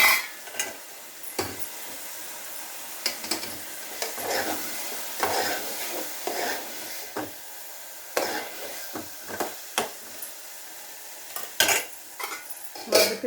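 Green chillies and chopped tomatoes sauté in a pan, giving a faint, soft sizzle beneath a sequence of irregular scraping and clinking strokes as the mixture is stirred.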